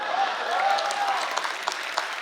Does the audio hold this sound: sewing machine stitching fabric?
no